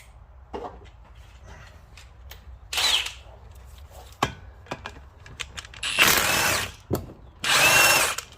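A power tool whirs in short, loud bursts while removing the flywheel center bolt on a John Deere 318 lawn tractor, separated by metallic clicks and clanks in a quiet workshop.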